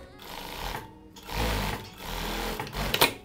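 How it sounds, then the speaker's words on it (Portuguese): A sewing machine runs a straight seam on a fabric strip for a pocket, its motor whirring in steady close bursts with short pauses between runs. "eu pego a minha faixa, direito com direito e faço uma costura reta"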